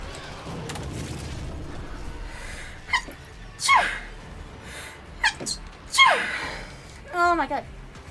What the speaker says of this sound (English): I sneezed and my ears blocked